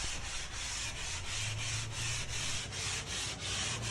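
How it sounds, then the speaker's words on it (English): Rhythmic rubbing strokes of sandpaper over the edges of a foam surfboard blank while shaping a 7 ft egg board, close and steady with regular back-and-forth pulses and no talking. "And back to sanding the edges, of course."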